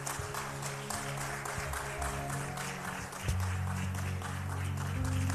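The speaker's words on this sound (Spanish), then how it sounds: "Fuerte ese aplauso al Señor, nuestro amado Salvador." A church audience applauds, a broad wash of clapping over a steady low musical hum, continuous and moderately loud, swelling slightly in the last couple of seconds.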